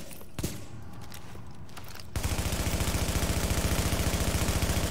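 Rapid automatic gunfire at a shooting range in The Division video game, a loud sustained burst of evenly spaced shots starting suddenly after a quieter stretch with a single earlier shot.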